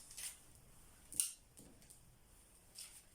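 Scissors snipping through a paper sewing pattern, a few quiet, crisp cuts spaced across a faint, otherwise still room.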